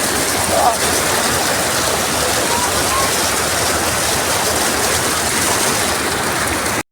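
A waterfall roars loud and close, a dense, steady rushing of falling water that fills the whole stretch without a break.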